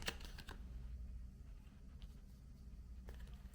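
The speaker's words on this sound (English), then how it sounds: "I have these beautiful love oracle cards. I'm going to pick out 3." Love oracle cards shuffled and picked by hand, soft close papery flicks and taps in small bursts, quiet against a low room hum.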